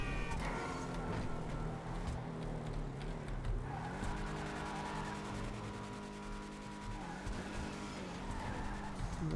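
A Deviant muscle car in GTA 5 Online revs hard with squealing, skidding tires while attempting a wheelie, the engine pitch dipping then climbing again, loud and continuous.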